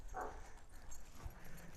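A Malakli dog gives a short, faint yip near the start, followed by quiet, soft whimpering noises in a calm setting.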